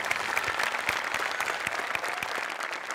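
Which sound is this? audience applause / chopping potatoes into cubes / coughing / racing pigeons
audience applause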